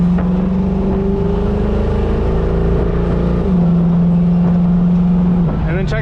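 A Chevrolet Camaro accelerates hard, its loud engine droning and pitching through gear changes as it pulls, heard close from inside the car with a voice speaking over it.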